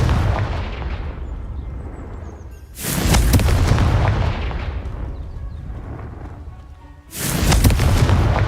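Two deep booming blasts from the Confringo explosion spell in a video game, each followed by a long rumbling roar that slowly fades, no talk.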